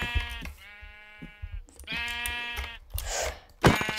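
Sheep bleating in a video game, two long wavering bleats in quick succession followed by short noisy thumps, heard alone and close.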